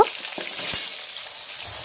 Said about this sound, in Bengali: আমি এখানে আলুটা ভেজে নেব।